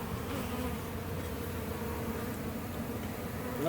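Honeybees buzz around a hive box during a honeybee removal from a trailer in Auburndale, Florida. It is a dense, constant swarm hum, moderately faint and unbroken.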